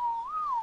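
A single close, clear whistle in ARK Survival Ascended, a smooth pure tone that glides up and then back down over under a second, heard alone.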